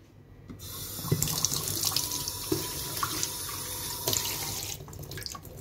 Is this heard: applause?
no